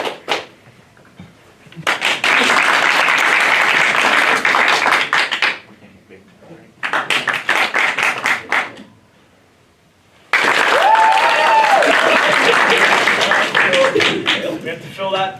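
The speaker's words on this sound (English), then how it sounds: "Clap if you want them to be out of the scene." Audience at a live improv comedy show bursting into loud, sustained applause and clapping in several waves, with short quieter gaps between bursts and some voices mixed in.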